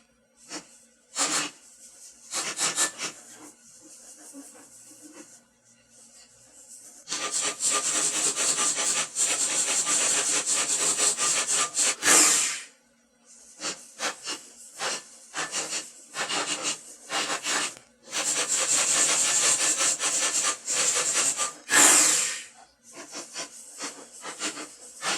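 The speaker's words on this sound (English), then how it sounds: "And these rollers aren't all that dirty anyway, so we're going to wipe them off just a little bit." A damp rag wiped over the rollers of a Craftsman benchtop planer, making repeated close rubbing and hissing strokes in bursts of varying length, separated by short pauses.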